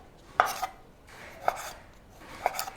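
Thin slices of beef cut against the grain for Cambodian skewers, each stroke of the knife landing as a crisp chop on a board, three distinct cuts about a second apart, close and fairly quiet with no talking.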